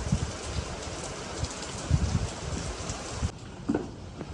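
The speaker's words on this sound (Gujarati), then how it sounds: "વરસાદ જેવો તેવો ધીમો પડી ગયો" Light rain patters steadily on surfaces nearby in the morning in Surat, a soft continuous hiss with occasional distinct drops.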